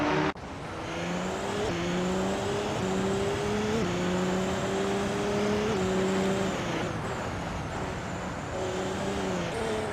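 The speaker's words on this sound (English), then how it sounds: "We've got some exciting AI car races happening right now" AI-driven race cars in a video game roar steadily for the full stretch, engine tones rising and shifting as cars pass and accelerate, with a brief tire squeal and no talk.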